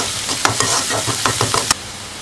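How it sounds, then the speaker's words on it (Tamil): Green chillies sautéing in a pan with onion and spices, a soft sizzle under a run of quick scraping stirs and light spoon taps that stop abruptly near the end. "பச்சை மிளகாய் போட்டு வதக்கிருக்கோம்."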